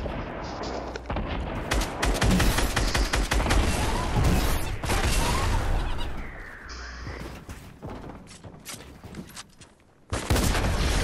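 Heavy gunfire in the Fortnite battle game, dense rapid bursts and booming shots layered into a loud, near-continuous barrage that drops away briefly before another blast, with no talking.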